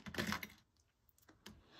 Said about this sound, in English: Just grab your embroidery scissors and snip.